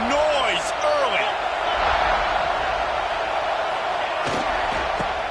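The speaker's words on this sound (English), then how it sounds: "This crowd bringing the energy and noise early." College football stadium crowd cheering, a broad, continuous roar of noise under a commentator's voice, with whistles and sharp shouts rising above it.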